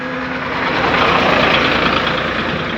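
A rickshaw engine runs steadily nearby, a loud, even idling rumble with a slight rise in the middle and no voices.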